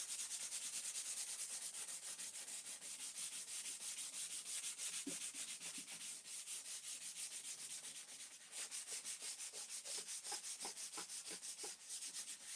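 Hand sanding on a painted wooden bedside table, a steady soft rasping scrape running throughout with brief rhythmic strokes becoming more distinct near the end.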